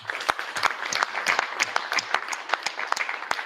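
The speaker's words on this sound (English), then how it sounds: "If I can ask the room to join with a round of applause in the usual way" A room of attendees at an evening branch meeting gives a round of applause for the presenters, crisp individual claps overlapping into a brisk, moderately quiet patter.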